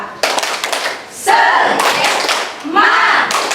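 A class of schoolchildren performs a rhythmic group clap in bursts, hands striking together in patterned beats while their voices chant along.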